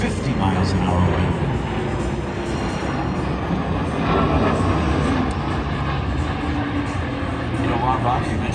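A Boeing C-17 military transport plane passes at an airshow, a broad continuous roar of jet engines holding steady and loud throughout, with an announcer talking over it.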